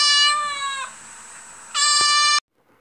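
A cat gives two loud, drawn-out meows close by, separated by a short pause, with quiet between them and after.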